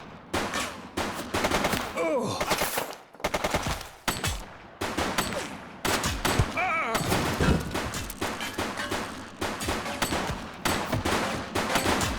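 Sustained gunfire from a fleeing suspect in The Precinct video game, loud rapid bursts and single shots packed across the whole stretch with only brief gaps, game dialogue heard among the shots.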